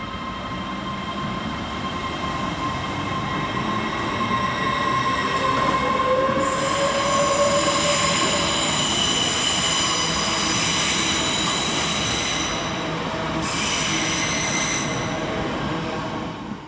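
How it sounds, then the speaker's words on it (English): A TransPennine Express Class 802, unit 802-205, runs through Carlisle station with a steady rumble and long, high wheel squeals that rise and hold, heard close and loud with no talking. "802-205, working the 1533 Transpennine Express service from Edinburgh Waverley through to Preston"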